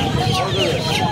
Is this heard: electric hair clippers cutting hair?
no